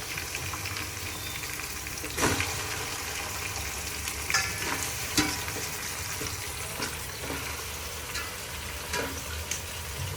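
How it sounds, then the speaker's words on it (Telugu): Pieces of goat head fry with onions in a pan for curry, a steady loud sizzle with occasional stirring scrapes and bursts of spattering. "ఆనియన్స్ ఇలా ట్రాన్స్పరెంట్ కాగానే తలకాయ ముక్కలు వేసుకోండి."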